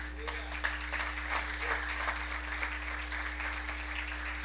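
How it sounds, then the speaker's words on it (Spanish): A church congregation claps together at a Bible study on Leviticus, a steady wash of applause lasting throughout, moderately loud over a constant low electrical hum, with voices mixed in. "¿No le da unas palmas al Señor?"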